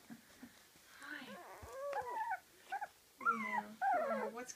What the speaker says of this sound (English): I like this little yellow collar girl because she's like growling.